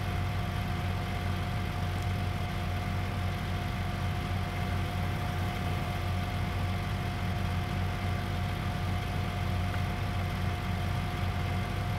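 Farming Simulator 19 tractor engine idling at a steady, unbroken drone with a constant low hum, heard alone for twelve seconds with no voices.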